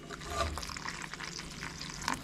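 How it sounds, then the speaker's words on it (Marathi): Water poured over grated coconut in a bowl while making Konkani solkadhi, a short soft splashing trickle heard close up with small stirring noises and no talk. "आता हे परत आपल्याला पाणी ओतायचंय, तेवढंच खोबऱ्याच्या वरती पाणी घ्यायचं"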